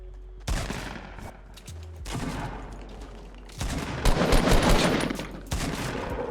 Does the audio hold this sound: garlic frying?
no